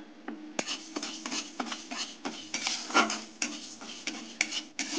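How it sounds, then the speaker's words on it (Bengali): Mung dal is dry-fried in a wok, with repeated gritty scraping and rattling strokes as the lentils are stirred against the metal, close and moderately quiet, with no voices. "এবার আমি মুগ ডালটা ভেজে নেব।"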